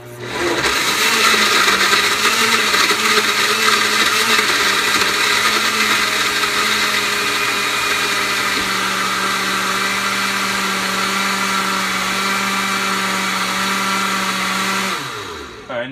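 A blender running on high, crushing ice for a Quest vanilla ice cream whey smoothie: a loud, steady, close motor whir with a grinding edge that holds for about fifteen seconds, then cuts off.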